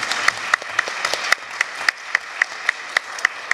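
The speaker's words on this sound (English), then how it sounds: "Let's clap for them and welcome them with us this morning." A church congregation claps at a Sunday morning worship service, a steady run of sharp, evenly spaced claps filling the room at moderate loudness with no voices over it.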